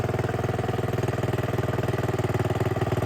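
A Honda 2hp four-stroke outboard engine idles nearby with a steady, rapid, even putter, loud and alone throughout.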